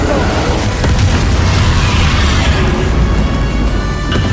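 Bombarda explosion spells go off in the video game Hogwarts Legacy, making loud, dense booms and crashing bursts that pile up continuously and close with no gaps.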